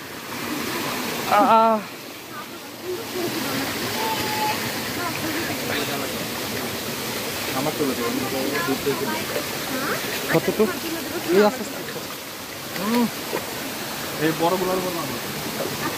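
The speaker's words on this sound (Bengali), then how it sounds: "শেষ পর্যন্ত আমরা এই ঝর্ণায় পৌঁছে গেছি" Steady, full rushing of a waterfall in Sajek Valley, Bangladesh, fills the scene, with faint voices now and then over the constant roar.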